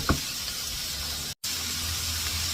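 Squash, mushrooms and spinach sautéing in a pan give a steady, even sizzle and hiss, close and continuous, with one brief dropout.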